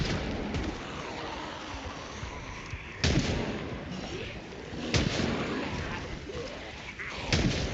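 Gunfire and pipe-bomb blasts in a farm-set zombie survival video game: a dense, continuous rattle of shots with sharper explosive bangs near 3, 5 and 7.5 seconds, close and loud throughout.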